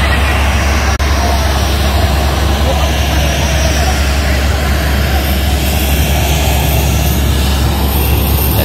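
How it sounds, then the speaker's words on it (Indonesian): Steady, loud airliner engine drone fills an aircraft cabin in flight en route to Morowali, a constant broadband roar with no breaks. "satu pesawat sama Pak Anies, guys. Kita menuju ke Morowali"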